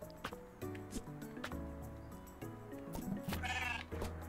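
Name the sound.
goat bleating in video game Surmount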